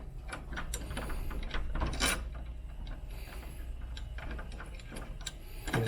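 A 1.25 inch screw is driven into a round doorknob prototype, giving a steady ratcheting, clicking mechanical rattle with a few sharper snaps, close and fairly loud, with no talking.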